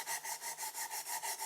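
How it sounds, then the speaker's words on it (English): Triple-aught steel wool scrubs a pitted Chevy C90 / GMC 9500 semi truck gauge bezel in quick, even back-and-forth strokes, about seven per second, a close raspy rubbing with nothing else heard. "triple-aught steel wool to the bezel and get off as much gunk as possible"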